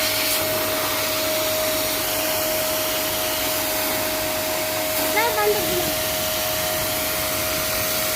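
The motor of a scooter water wash machine runs in a constant close whirring drone with a steady whine, briefly disturbed midway by a short warbling sound.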